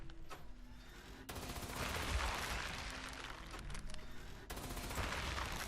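Gunfire from Fallout 76 during a boss fight, heard as bursts of rapid shots in sustained stretches, fairly faint and distant-sounding overall, with no talking.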